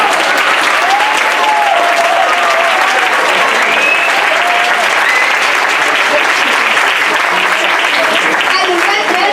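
Loud, dense applause from an audience after a primary school Christmas song and dance show, continuous clapping throughout with a few cheers and voices rising over the steady patter.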